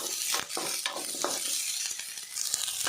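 Onions fry in a pan for an egg green masala, a soft but continuous sizzle with intermittent stirring clicks and scrapes of the spoon against the pan.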